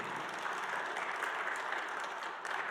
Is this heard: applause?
yes